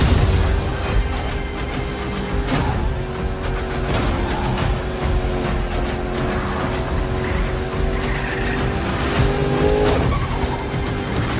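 Cars in a video game chase skid and roar through a steady, loud stretch, with tire squeals, engine drone and occasional booms layered thickly together and no voices.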